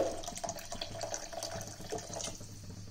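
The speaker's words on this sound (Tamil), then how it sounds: "எக்ஸ்ட்ரா பாத்தீங்கன்னா கொஞ்சமா தண்ணி சேர்த்திக்கலாம்." Water is added to a cooking pot of South Indian rasam or kuzhambu in a home kitchen. It makes a steady splashing and trickling close by, with small drips and bubbling over a low background hum.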